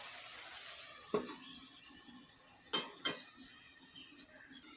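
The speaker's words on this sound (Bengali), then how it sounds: "এখন এটাকে আমি ঢেকে দেব।" A metal lid clanks onto a pot of small fish cooking on a stove, with a few sharp knocks of metal against metal over a soft background sizzle.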